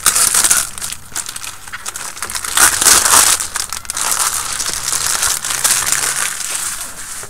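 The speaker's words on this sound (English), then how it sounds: "Into our next bag of goodies. I'm going to open this one." Plastic bag of 1/35 scale Academy M1A2 TUSK II tank model kit parts being opened, with steady close crinkling and crumpling throughout and a louder burst of rustling midway, no talking.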